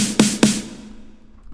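A regular snare drum sample in FL Studio for progressive house strikes twice in quick succession, each hit crisp with a short ringing body, then a reverberant tail fades out; no talking.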